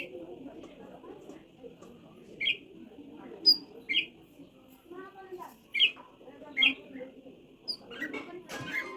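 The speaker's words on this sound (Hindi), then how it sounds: "तो यहाँ पर चिड़िया रानी भी नमकीन खा रही थी" Sparrows being fed a namkeen snack give short, bright chirps, scattered and fairly close, over a steady low background hum and murmuring voices.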